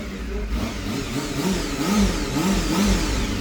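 A vehicle engine runs steadily throughout, its low rumble rising and falling slightly as though revving, with no voices present.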